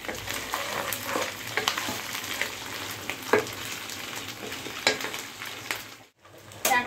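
Cumin seeds sizzle in hot oil with a steady crackle, broken by scraping strokes of a spoon stirring the pan, close and clear, with a brief dip near the end.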